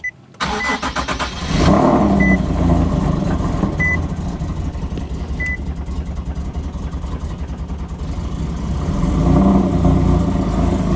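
A car in need of a tune cranks and catches, then settles into a loud, rough, slightly uneven idle close by, with periodic chime beeps over the engine and a rise in revs near the end.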